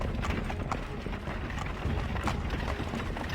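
Horse hooves clip-clop in a steady galloping rhythm in the video game Assassin's Creed 3, close and continuous over a low constant rumble of game ambience.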